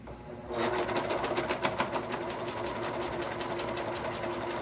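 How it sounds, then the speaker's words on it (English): A serger sewing machine runs steadily as it stitches and trims the hem of shorts being made into a skirt, starting after a short pause and then holding a loud, even mechanical whir with rapid rhythmic chatter. "mine has cut it off because that's what sergers do"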